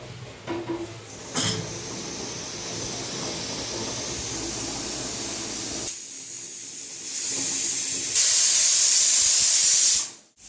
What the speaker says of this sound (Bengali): আমি এখানে সসপ্যানে জল দিয়ে দিয়েছি, ডিমটা সেদ্ধ করে নেবো।